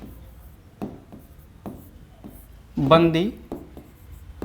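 Chalk or marker taps and scratches on a board during a polity class, a few short sharp strokes spaced through the moment, with a teacher's brief speech heard over them.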